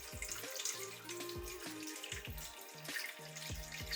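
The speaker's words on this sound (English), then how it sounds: "So I was quite nervous when pouring water on the desk." Water poured into an indoor hydroponics unit holding up to 5 litres, set on a desk, with a steady filling splash and repeated gurgling glugs close by, no talking.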